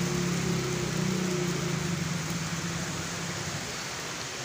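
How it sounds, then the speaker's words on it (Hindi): Rain pours onto a street outdoors, a dense, steady hiss of drops hitting the road, loud and continuous, with a low hum from a passing vehicle fading early on. "बारिश जो है माशाल्लाह अभी आ रही है"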